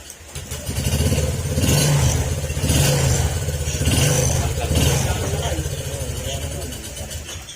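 Honda Click 125 scooter engine idling with a damaged stud, a steady mid-pitched putter that swells and eases in slow waves, heard close up while people talk over it.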